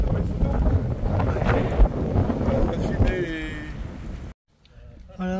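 Strong wind buffets the microphone near a hilltop village in France on the Compostela pilgrimage route. It is a loud, rough roar with a voice underneath, then a sudden brief silence before the wind noise returns.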